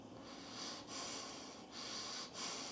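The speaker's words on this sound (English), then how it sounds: "Now you've swelled your cheeks up, but you can still breathe through your nose." Breath is drawn in and out through the nose while the cheeks stay puffed for circular breathing on a wind instrument. Three or four soft, airy inhalations and exhalations follow one another closely, with short pauses between them.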